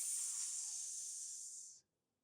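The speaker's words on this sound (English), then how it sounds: "Hiss." A snake's hiss, one steady breathy rush that holds loud for nearly two seconds and then cuts off sharply, leaving silence.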